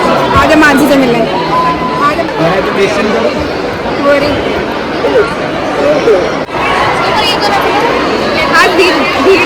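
Dense, steady crowd chatter and hubbub fill a busy beauty expo hall, many overlapping voices close and far blending into a continuous loud murmur throughout.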